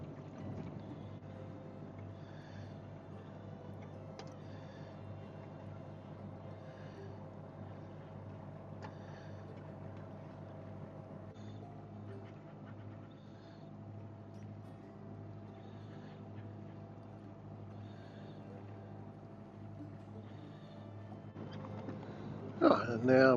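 A sailboat motors under engine power through a harbour bay, a steady low engine drone with water wash running continuously, and a brief louder clatter near the end.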